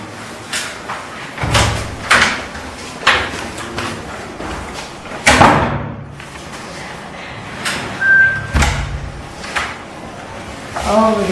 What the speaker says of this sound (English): Oh, the door is open.